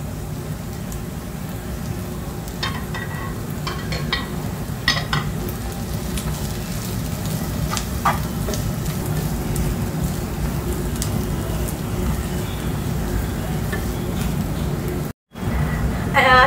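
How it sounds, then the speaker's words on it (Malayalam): Ginger, onions and shallots sauté in a pan for a Kerala-style beef dish, giving a continuous soft sizzle and crackle with occasional stirring scrapes, close and steady, with a brief dropout near the end. "ഇഞ്ചിയും ഉള്ളിയും സവോളയും എല്ലാം നന്നായിട്ട് വഴണ്ടി വന്ന് ഒരു ബ്രൗൺ കളർ ആയിട്ടുണ്ട് കേട്ടോ"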